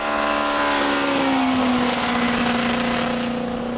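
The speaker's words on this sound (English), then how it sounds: "as you can hear as he comes right up onto the limiter in third" A hillclimb race car at Gurston Down in 2006 sits on its rev limiter in third gear, a loud sustained engine drone with a steady pitch and a faint rapid stutter, with no voices.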